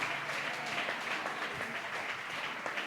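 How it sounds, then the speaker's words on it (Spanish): A church congregation applauds during a worship service, a soft, steady patter of many hands clapping heard at some distance, with no clear speech. "Dale fuerte ese aplauso al Señor"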